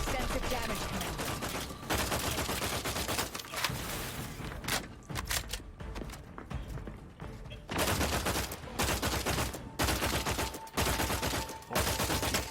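Rapid automatic gunfire rattles in the video game Outer Worlds 2, dense loud bursts filling most of the stretch with a few short gaps and a lighter patch in the middle.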